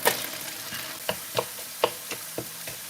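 Onions sizzle steadily in a hot pan for a vegetable stir fry, a continuous crackling hiss broken by several sharp clicks of a utensil stirring, close and clear with no talk.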